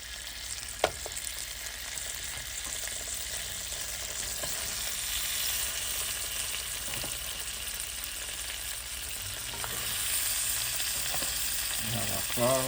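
Lobsters fry in a stick of salted butter in a hot pan, giving a constant close sizzle broken by occasional sharp ticks and light utensil knocks. It swells slightly louder near the end, with no talking.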